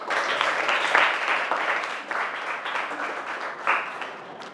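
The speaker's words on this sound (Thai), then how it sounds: "ปรบมือต้อนรับเพื่อนหน่อยจ้ะ" Thai schoolchildren clap in a classroom to welcome a new classmate, a soft, busy patter of many hands that swells and dips at moderate loudness.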